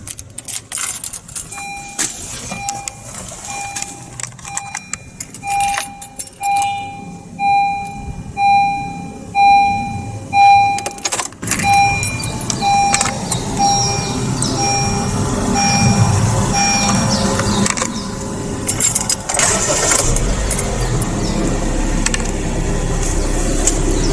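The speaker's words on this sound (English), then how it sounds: "Now let's start up this car." A 2015 Honda HR-V 1.5 S is started: a repeating warning chime and dash beeps sound first, followed by a sharp crank and the engine settling into a steady idle hum that continues to the end.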